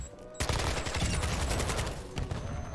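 Rapid automatic gunfire from a gun in a multiplayer shooter video game, a loud continuous burst of shots that starts abruptly and runs almost without pause, with a short dip near the end.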